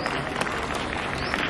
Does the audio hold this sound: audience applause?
yes